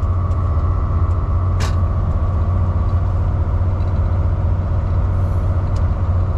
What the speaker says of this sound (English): dalhin natin ng konting itong trailer brake